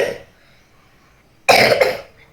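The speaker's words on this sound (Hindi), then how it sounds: "खांस के दिखा।" A child with a sore throat gives a short burst of two or three harsh coughs, close and loud, after a brief moment of quiet room tone.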